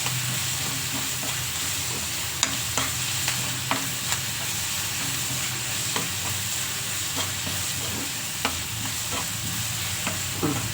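Onions frying and sizzling in a pan on a home kitchen stove, a constant dense hiss with occasional sharp crackles and stirring clicks, close and steady with no talking.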